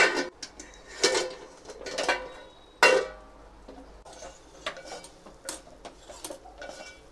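A metal pot lid lifted off cluster bean (gavar) curry on a stove with the gas turned low, with a few sharp clinks and scrapes of utensils, the loudest about three seconds in, followed by lighter clatter and stirring.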